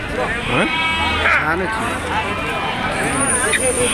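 Rams bleat repeatedly at a busy outdoor sheep market, their wavering cries close and loud over a steady hubbub of people talking in the background.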